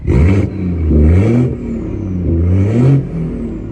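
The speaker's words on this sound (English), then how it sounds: "here's a quick glimpse of the exhaust setup on my car. I personally think my M240i sounds pretty decent." A BMW M240i with its B58 engine and aftermarket exhaust revs three times in close succession, each blip a loud, deep rising roar that drops back to a rumbling idle between pulls.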